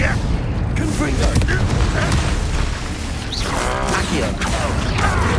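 A Confringo spell explodes in the video game Hogwarts Legacy: a loud, dense booming blast with crackling debris and mechanical rumble, sustained throughout, with game voices mixed in.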